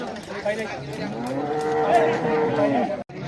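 A cow moos loudly and close by at a cattle market, one drawn-out low call amid busy background crowd noise.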